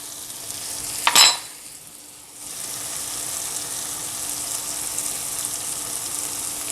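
Onion and garlic sizzling in a frying pan, with a short sharp clatter of stirring early on, then a steady close, moderate frying hiss running alone to the end.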